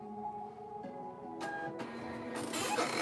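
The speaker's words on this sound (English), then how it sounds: "Ah, that lovely sound of the printer." Printer running a print job, with a steady mechanical whir and rising feed and carriage noises that grow louder toward the end, close and alone.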